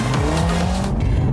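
A Mercedes A45 with a newly developed turbocharged engine of 421 horsepower drives hard, its engine roaring loud and close with shifting pitch and a brief tire squeal, then easing off near the end.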